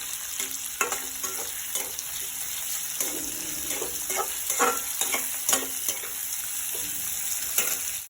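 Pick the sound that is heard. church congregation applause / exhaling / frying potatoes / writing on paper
frying potatoes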